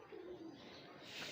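Soft, low pigeon coos murmur faintly, a brief rolling call in a quiet space.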